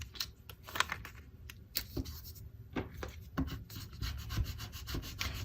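Transfer tape being burnished onto Cricut vinyl on a whiteboard eraser, giving close, quiet rubbing and scraping strokes in short irregular bursts, with no talking.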